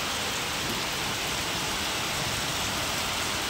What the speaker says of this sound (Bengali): দেখো বৃষ্টি হচ্ছে, দেখো মুষলধারে বৃষ্টি হয়েছে